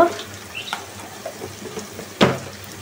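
Ginger and garlic paste sizzles softly in a pan for a chicken curry, with light stirring scrapes and one sharper clatter near the end, no voices.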